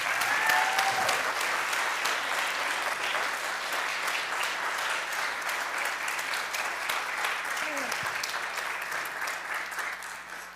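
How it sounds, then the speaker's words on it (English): An audience at a Family and Veterans Shabbat service applauds the veterans for their service, a sustained, even round of clapping from a full room that tapers off slightly near the end, with a faint voice briefly underneath. "a round of applause for their service"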